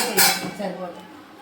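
A plate is set into a pressure cooker lined with sand, giving one short metallic clink close up, followed by a faint rattle as it settles.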